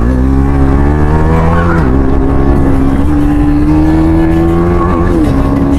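A car passes close during a motorbike ride, its loud, steady engine drone filling the clip and shifting in pitch as it goes by, with continuous road and wind roar underneath.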